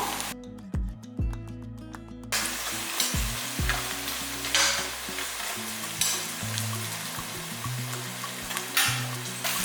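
Onions sautéing in oil for a vegetable dum biryani, a continuous close sizzle with repeated spatula scrapes, over a low tonal hum that shifts in pitch throughout.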